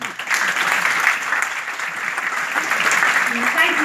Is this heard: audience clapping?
yes